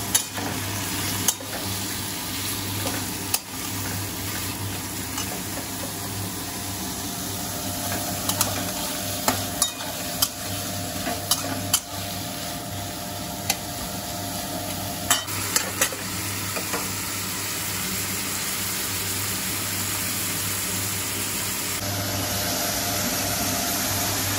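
Carrots and other vegetables fry in a pan with a steady hissing sizzle, punctuated by occasional clicks and knocks of stirring, close up, with a low hum underneath and no talk.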